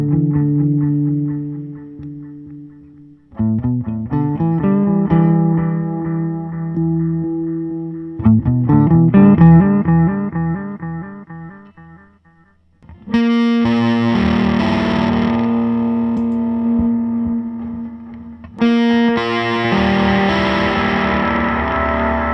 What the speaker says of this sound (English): the great part about the preamp is you can get it dirty sounding, a little lo-fi, a little crackly